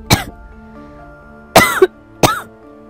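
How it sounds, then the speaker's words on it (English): Three sharp coughs from a person with a slight cold, one early and two close together later, loud and near against a quiet background with a low hum. "so I might cough a lot"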